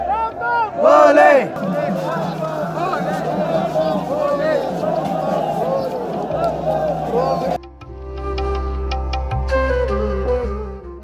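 A dense crowd of pilgrims at Kedarnath chants and shouts together in a loud, continuous roar of massed voices, swelling near the start and then dropping to a thinner layer of chatter and clatter toward the end.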